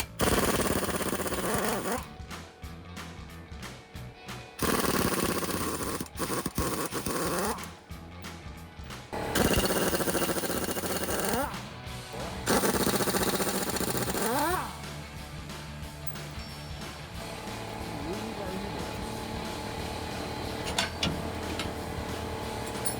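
Power tool spinning off 19 mm bolts on the passenger side of a 2005-2023 Toyota Tacoma during a rear lift block install, loud rattling bursts separated by short pauses, then steady running noise.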